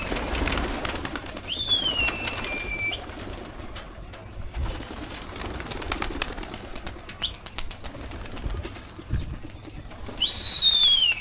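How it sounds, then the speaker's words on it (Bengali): Pigeons being released outdoors, with a rustle of wings and flight noise against steady background sound, plus two clear rising-then-falling whistling calls near the start and end. "কবুতর বের করা কবুতর যেভাবে ছাড়ে ছাড়ে"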